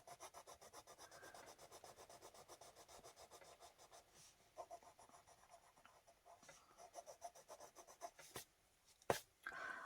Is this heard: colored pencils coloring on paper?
yes